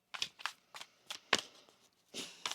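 Tarot cards are shuffled by hand in a series of short, crisp riffling bursts, about eight in quick irregular succession, close up with quiet gaps between them.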